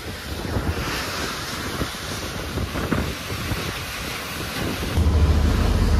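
Sea waves wash and wind buffets the microphone aboard a sailing boat at sea, a steady rushing roar with low rumbling gusts that swell louder near the end, with no voices.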